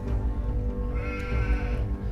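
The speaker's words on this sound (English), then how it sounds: "3 white sheep were grazing on a grassy knoll." A single sheep bleats close by in a long, wavering call, with a low rumble underneath.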